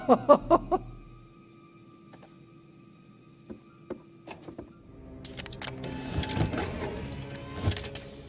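Old cigarette vending machine in the horror game The Devil in Me: a few quick mechanical clunks, sparse faint ticks and knocks, then a louder grinding whir near the end.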